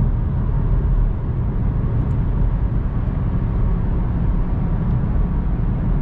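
A Vauxhall Corsa drives at night, heard from inside the cabin as a steady, loud low-frequency engine and road rumble that stays constant throughout.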